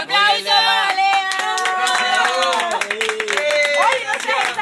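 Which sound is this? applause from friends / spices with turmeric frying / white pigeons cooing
applause from friends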